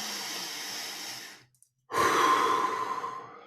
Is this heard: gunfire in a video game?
no